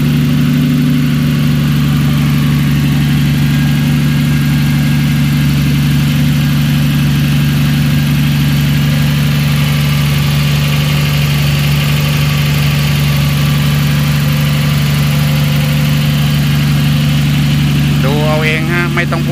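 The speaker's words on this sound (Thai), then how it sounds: "ใส่เครื่องสกายไลน์เข้าไป" Nissan Navara pickup fitted with a Nissan Skyline RB26 engine idles with a loud, steady, even drone held throughout, with no talking.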